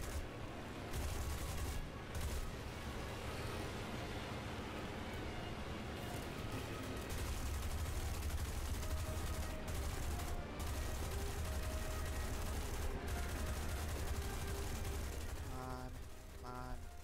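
Gunfire in War Thunder while a plane takes hits, a dense, continuous rattle of machine-gun bursts over steady engine drone, loud and unbroken for most of the stretch.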